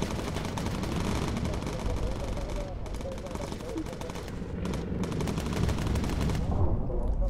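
Rapid machine-gun fire from a bomber's turret in the video game Bomber Crew rattles continuously and loudly in dense bursts, with voices partly under the shooting.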